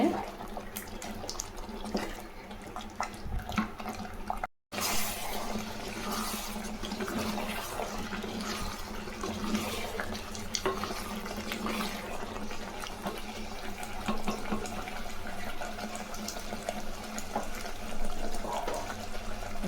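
Running tap water splashes steadily into a mixer jar as it is rinsed, continuing for a long stretch and briefly cutting out near the start.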